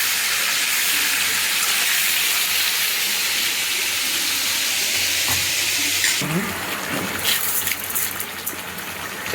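Vegetable khichuri of gobindobhog rice and moong dal fries in a pan with a steady, close broadband hiss, then clinks and stirring scrapes break in near the end.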